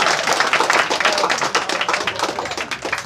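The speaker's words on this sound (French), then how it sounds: "Je voulais qu'on l'applaudisse très fort." A crowd at a regional community event claps energetically, a dense, close, fairly loud patter of many hands with a slightly uneven pulsing rhythm that carries on for three seconds without speech.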